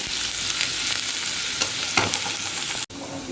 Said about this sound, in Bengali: পেঁয়াজ আর রসুনটাকে খুব লাল করে ভেজে দিতে হবে